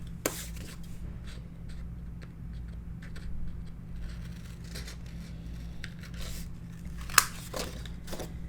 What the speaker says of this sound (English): Scissors there. So I'm just trimming my corners.